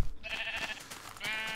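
Two bleats from a Minecraft sheep, close and clear, a short wavering cry followed by a second after a brief pause, with no talk over them.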